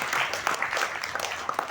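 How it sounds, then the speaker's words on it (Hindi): An audience claps together at a spoken gathering, a dense, steady burst of applause with sharp individual claps over a short stretch. "अच्छा सहमत हो तो एक बार ताली बजा करके"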